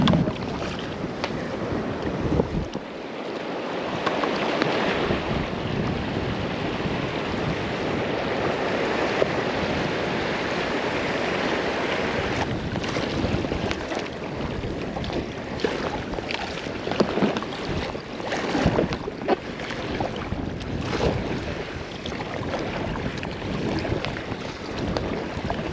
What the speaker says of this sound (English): it's windy, and the wind is blowing this way